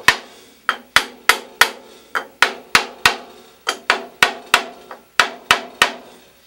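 A planer block is tapped over a locked metal type form, producing about eighteen crisp, ringing hammer knocks in a steady rhythm, each decaying quickly, close and loud with no talk.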